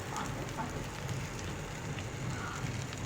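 Ginger-garlic paste sizzles in hot oil with mustard seeds, cumin, mint and garlic, a steady close crackling spatter with faint pops, no talking.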